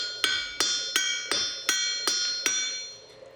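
A blacksmith's hammer strikes metal at a forge seven times at an even pace, each blow a sharp, bright, ringing clang that decays into the next. No one speaks.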